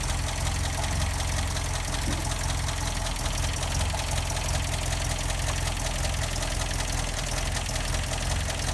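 An MGA MK2 engine idling steadily, a constant low rumble with even mechanical chatter, close and unbroken, no voices.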